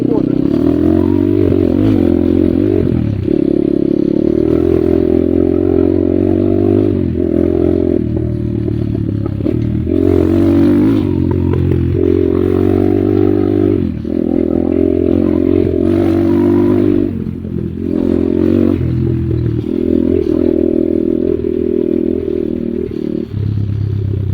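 A Kayo T2 enduro motorcycle engine drones steadily and loud throughout, held at moderate throttle during break-in with small rises and dips, with some clatter and someone talking over it.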